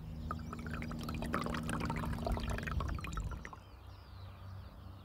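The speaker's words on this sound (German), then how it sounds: "Ein Test simuliert die Regenfälle von 2007 bei Jens Petermann." Simulated rainfall sprays water onto soil in a test, a steady pattering splash that runs for a few seconds and then stops, leaving a faint quiet background.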